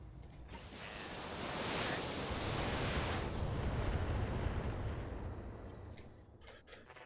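The Archangel mech unleashes a full barrage in a mech combat game: a sustained, roaring wash of rapid fire and explosions that swells and fades over several seconds, with sharp clicks at the end.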